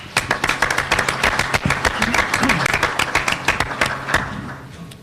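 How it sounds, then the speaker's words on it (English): Luncheon guests at a chamber of commerce elected officials panel break into brisk applause, many hands clapping in a crisp, dense patter that fades near the end. "Please give them another round of applause."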